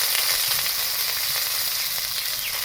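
Cumin seeds and cut potatoes fry in hot mustard oil, giving a loud, steady sizzle and crackle with no voices over it.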